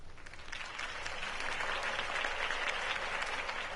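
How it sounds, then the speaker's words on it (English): A crowd applauds at a Harvey Dent campaign rally in a Batman video game: dense, steady clapping that swells slightly and holds at an even, moderate level throughout. "could have heard that applause"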